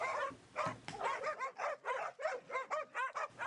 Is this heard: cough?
no